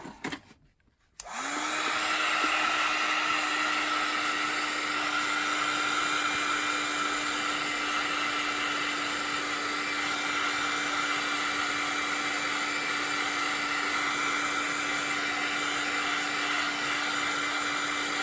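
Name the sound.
dryer drying embossed watercolor flower painting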